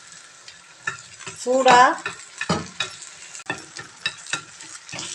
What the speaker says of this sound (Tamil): இப்போ கொஞ்சம் சால்னாவை ஊற்றி மறுபடியும் கொஞ்சம் கொத்த போகிறேன்.